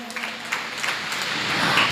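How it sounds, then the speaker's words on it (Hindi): An audience at a religious discourse gathering breaks into a brief burst of dense clapping that builds slightly louder over two seconds. "तालियां बजाएं इनके लिए,"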